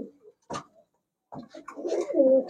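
Racer pigeons in a shop, giving a few soft, close coos and throaty murmurs separated by brief pauses.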